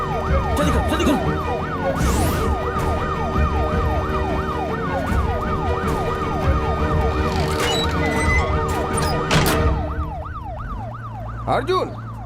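An ambulance siren wails in a fast, rising-and-falling electronic pattern over road traffic in a Hindi dubbed movie scene, loud and continuous before it cuts off near the end, with a few sharp bangs mixed in.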